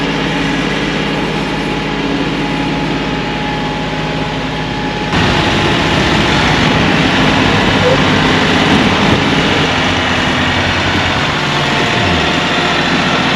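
A farm tractor idles steadily as it backs downhill on rural Missouri hunting land, a continuous low engine rumble that grows a little louder partway through and stays close throughout.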